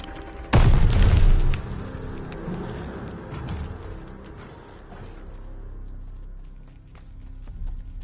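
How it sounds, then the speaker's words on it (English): A grenade blows up in the World War II shooter Call of Duty: Vanguard: one loud, close boom with a heavy low rumble, then debris and the fading battle noise afterward. "Grenade! Get down!"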